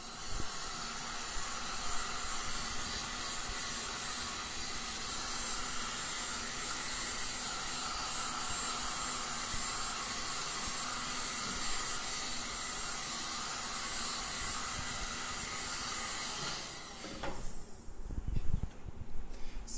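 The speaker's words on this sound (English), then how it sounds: "investing on a heat gun is worth it, and it's not that expensive" A steady, loud hiss of a heat gun blowing air over a cake runs unbroken for most of the clip, then cuts off, leaving a few soft handling bumps.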